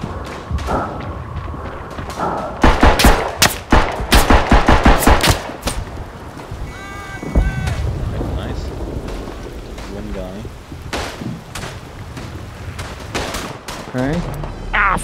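Gunfire in the World War I shooter Verdun on a Flanders map: loud bursts of rifle and machine-gun fire crackle in rapid clusters, heaviest early on, then fade into scattered distant shots and rumbling battlefield ambience.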